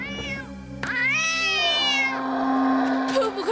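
A cat meows in a long, drawn-out pained wail with a few shorter cries, close and fairly loud, with no talking over it.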